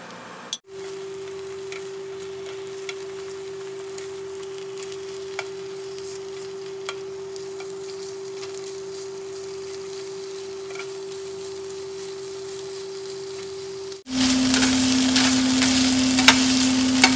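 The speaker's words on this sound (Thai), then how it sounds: "เดี๋ยวมาย่างกันเรื่อยๆเนาะ" Pork sizzles as it grills: a steady close hiss with a constant hum underneath, growing louder and brighter near the end.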